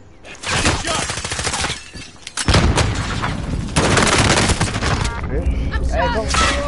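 Rapid bursts of gunfire in a battle royale video game, close and loud, with repeated automatic shots and a brief pause, while players talk over the action.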